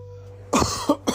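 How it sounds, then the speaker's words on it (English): A few short coughs close to the mic, three quick bursts after a quiet moment with a low steady hum underneath. "Sorry, a little cough."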